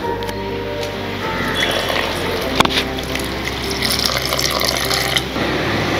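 Water pouring steadily into a bowl of hibiscus flowers, a continuous loud splashing stream with a brief knock partway through, close up and without speech.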